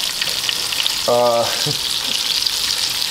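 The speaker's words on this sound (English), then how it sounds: "We've brought the heat high, gotten the vegetable oil just to boil, and then brought it down to medium." Snook pieces frying in vegetable oil brought to a boil and then turned down to medium: a steady, close bubbling sizzle that runs throughout, with a brief tonal hum partway through.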